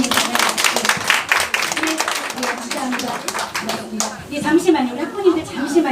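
Audience at a Korean National Assembly education committee meeting breaks into scattered clapping, a few seconds of moderate applause in a room, with talking over it.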